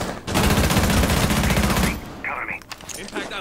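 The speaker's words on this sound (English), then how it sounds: "You're shooting so close to his head." Rapid automatic gunfire from a competitive video game match rattles in a dense, loud burst for about a second and a half, then gives way to quieter scattered sounds.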